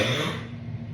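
A pregnant woman lets out a single short, muffled cough at close range in a quiet room.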